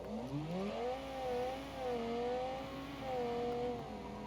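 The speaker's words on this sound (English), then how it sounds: "It does sound like a V10 though." A large V10 engine in the Automation car-building game revs steadily and smoothly, its pitch climbing and dipping through several rises with no talk over it.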